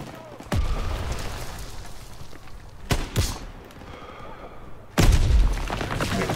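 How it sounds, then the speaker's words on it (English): Booming blasts and gunshots from Call of Duty: WWII, a few heavy thuds separated by rumbling noise, loud and close. "Gunfire. Huh? Must be near our guys."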